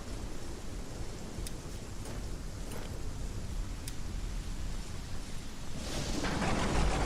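Thunder rumbles in the survival video game ASKA, a low, broad roar over steady rain-like hiss that swells louder toward the end, with no talk.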